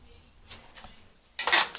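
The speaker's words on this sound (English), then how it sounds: "Now I'm going to go ahead and add our pasta." Pasta drops into a metal pot of shrimp scampi with a short clatter and bright metallic rattle at the end, after a few soft kitchen clinks.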